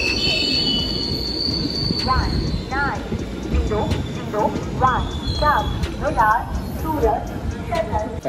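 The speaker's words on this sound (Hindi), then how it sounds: "ये ट्रेन देख सकते हो पीछे" Mumbai local train running on the rails, a steady rumble and clatter throughout with repeated wheel squeals rising and falling over the noise, loud and close, with a voice speaking under it.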